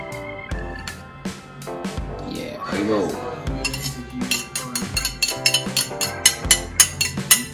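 A utensil scrapes and clinks against a bowl while akara bean batter is stirred, giving uneven knocks and scrapes that settle into a quicker rhythmic clatter toward the end, close to the microphone.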